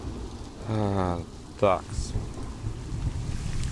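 Rain falling with thunder in the Planet Zoo video game, a steady wash of rainfall under someone speaking briefly, with tonal in-game sounds rising over it.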